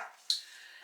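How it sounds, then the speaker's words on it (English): A single sharp dog bark or yip rings out briefly indoors, fairly close, against an otherwise quiet room. "Pardon my dog."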